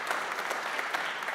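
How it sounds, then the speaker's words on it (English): A church audience breaks into brief, steady applause, a dense patter of many hands heard at moderate distance for just over a second, with no voices over it. "I'll take another round of applause."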